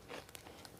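Raw celery is bitten into with a few faint, quick crunches close by, each a short crisp snap over a quiet background.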